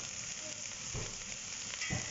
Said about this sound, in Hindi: अब मैं इसमें डाल रही हूँ हरा प्याज और मैं थोड़ा सा इसमें बचा दूंगी और इसे मैं सिर्फ 1 मिनट और फ्राई करूंगी